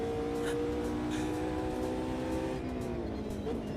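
Audi race cars in a racing sim video game, engines droning steadily with rising harmonic tones as they pass nearby, a continuous loud motor roar throughout.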